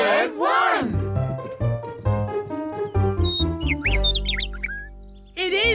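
A cartoon bird sings in a children's show, a run of high bright chirps and trills in the latter half, following a musical passage with other voiced tones.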